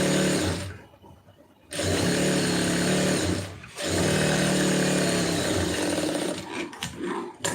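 A sewing machine stitches a seam along folded cloth, running close and steady in long whirring bursts with brief pauses between them, and no voices.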